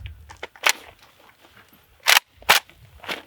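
A PSA AK103 rifle on a sand range having a new magazine fitted, giving a few sharp metallic clacks and snaps among softer handling rattles, close by.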